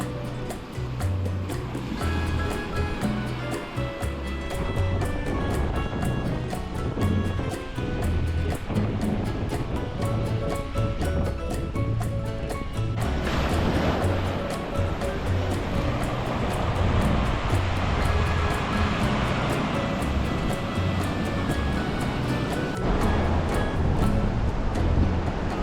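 Surf washing onto a sandy beach during a seaside walk, a steady continuous wash of breaking waves mixed with wind buffeting across the microphone, with no voices throughout.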